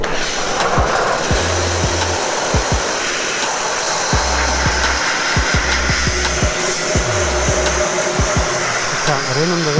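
A canal narrowboat is sandblasted, and the loud, continuous roaring hiss of the blast nozzle fills the whole stretch, with intermittent low thumps and shifts underneath.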